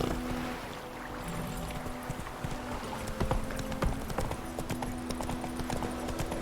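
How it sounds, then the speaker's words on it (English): A horse's hooves clip-clop at a steady walking pace in The Witcher 3: Wild Hunt, with distinct irregular knocks over a soft ambient outdoor bed and a faint low hum. "Whoa there, Roach."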